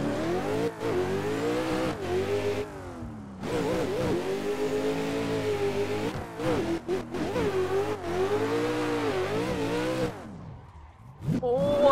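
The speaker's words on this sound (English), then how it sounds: "Now this car, definitely in the hands of Kevin, is going to be an aggressive car to compete with." A Nissan 400Z drift competition car engine revs hard and repeatedly, rising and falling in pitch with short lifts between pulls, loud and close throughout, dropping off briefly near the end.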